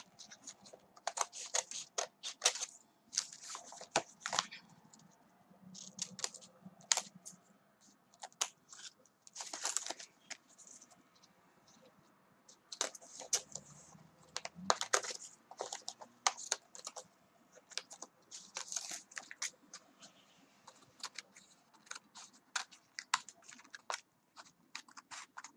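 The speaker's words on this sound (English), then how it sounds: "I'm just going to cut off all those little tabs" Scissors snip the paper tabs off binder dividers in quick, quiet, irregular cuts, with faint rustling of paper between bursts and no talking.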